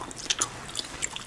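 Gum chewed right up against the microphone, giving soft, wet mouth clicks and a few sharper smacks in an irregular rhythm, quiet and intimate with no talking.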